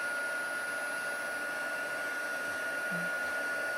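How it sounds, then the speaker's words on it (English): Embossing heat tool blowing hot air over melting powder during cardmaking, a steady, even whooshing hum with a faint high whine, continuous and close with no other sounds. "I'm just going to slowly move the heat tool across as the powder melts."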